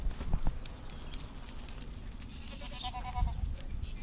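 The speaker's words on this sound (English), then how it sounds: "Hello, farm animals." Farm animals bleat softly on a trail loop, goat- or sheep-like calls rising briefly over a faint outdoor background with some low rustling and thumps, fairly distant and quiet.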